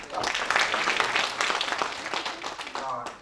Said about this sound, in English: A round of applause there for our Chief of Staff.